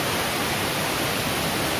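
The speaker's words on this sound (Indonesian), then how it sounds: "Kita nikmati air terjun." Waterfall at Lembah Karaeng, a dense, constant roar of falling water filling the whole clip, loud and close with no voices.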